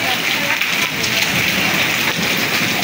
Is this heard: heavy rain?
yes